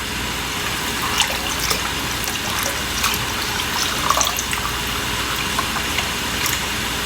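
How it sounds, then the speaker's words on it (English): Water pours steadily into a spice mixture of dhania-jeera powder and salt, a continuous close, loud hiss and gurgle of running liquid that holds for several seconds without pause. "And now I'm going to just go ahead and add the water into this."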